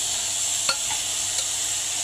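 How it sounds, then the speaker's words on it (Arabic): Green beans sautéed with onions in a home kitchen pan give a steady soft sizzle, with one or two faint stirring scrapes and no talking. "شوحي بقى الفاصوليا مع البصل كويس."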